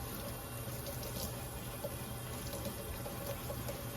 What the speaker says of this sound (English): put the water on low